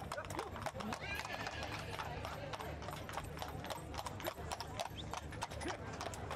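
At a gypsy horse fair, horses in metal shoes pull sulkies along a slippery road, their hooves clip-clopping in quick, overlapping rhythms at close range, with a neigh and crowd chatter in the background.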